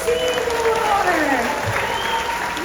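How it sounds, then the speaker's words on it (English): Audience applause at a SeaWorld Orlando orca show, a steady wash of clapping from a large crowd overlaid by a voice and tonal sweeps. "Okay, round of applause for"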